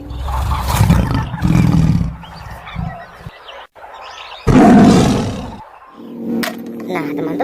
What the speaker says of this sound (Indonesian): seekor harimau.